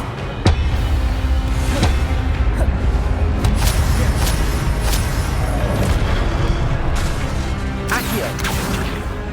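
Spell effects from Hogwarts Legacy, including Expelliarmus, land as repeated sharp booms and crashing impacts with whooshes over a dense, loud bed of combat noise.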